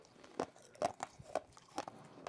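Someone bites and chews a stale old stick of baseball card gum, producing about four faint, crisp crunching snaps spaced roughly half a second apart, close to the mic with no talking.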